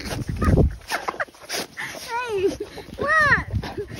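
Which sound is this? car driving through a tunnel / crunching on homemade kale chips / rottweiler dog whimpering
rottweiler dog whimpering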